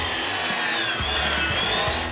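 A power saw cuts 45-degree miters in wood for a floating diving raft dock, a loud, close continuous whine with rhythmic low thumps.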